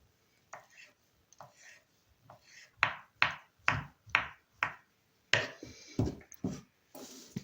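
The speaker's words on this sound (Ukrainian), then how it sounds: "Яйця також наріжу кубиками." A knife taps repeatedly on a cutting board while cutting boiled eggs into cubes, irregular then quicker sharp chops, close and fairly quiet, with no talking.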